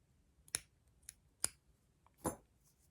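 Scissors cut through loops of material for a Santa ornament's mustache, giving three or four crisp, quiet snips spaced apart with no talking.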